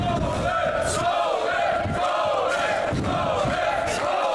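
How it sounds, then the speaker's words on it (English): A huge wrestling crowd in a Berlin arena roars and chants steadily, with rhythmic swells of cheering rising every second or so throughout. "You can hear this huge crowd in Berlin almost unanimously in favor of Colen."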